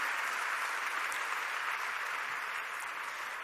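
An audience applauds for the gurus at a gathering, a steady dense wash of clapping that holds evenly from start to finish without voices.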